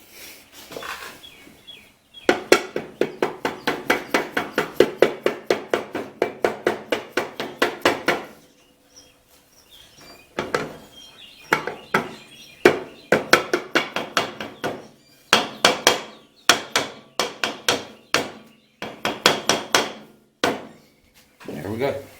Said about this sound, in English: Now I'm just going to use a rubber hammer.